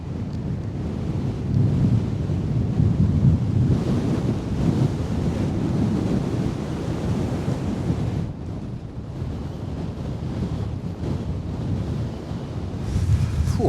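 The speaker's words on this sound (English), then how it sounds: "Ooh, that wind's really got up. Very, very windy." Strong wind on a fell summit in the Lake District near Nethermost Pike, a loud steady roar buffeting the microphone with low rumbling gusts throughout, no other sounds.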